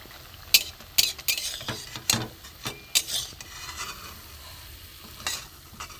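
Pitha frying in hot oil, a steady soft sizzle broken by a handful of sharp scraping and stirring clacks from a utensil against the pan, close by with no voices.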